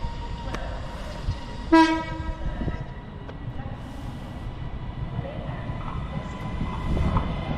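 A train passing through Bolton station sounds a brief horn blast partway through, over steady rumble and platform ambience, with faint background voices.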